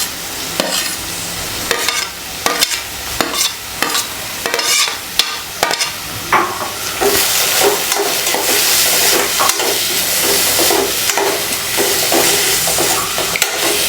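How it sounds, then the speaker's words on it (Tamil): Chopped onions sauté with garlic in a hot pan for a sweet potato cutlet, giving a steady close sizzle broken by repeated scraping stirs of a spoon against the pan. "பொன்னிறமாகணும் அந்தளவுக்கு நம்ம வெங்காயத்தை நல்லா வதக்கிக்கலாம்."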